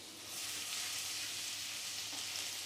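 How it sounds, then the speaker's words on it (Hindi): Garlic hits hot oil and fries with a close, steady hiss and crackle that rises at the start and holds evenly throughout, with no talking, while aromatics cook for vegetable spring rolls. "तो हम सबसे पहले यहाँ पे डालेंगे लहसुन, और इसको 10 सेकंड के लिए अच्छे से भून लेंगे"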